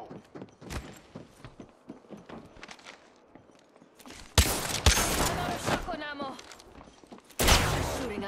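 In an Apex Legends match, scattered footsteps and faint shots give way to two loud bursts of rapid gunfire, with a player talking between them.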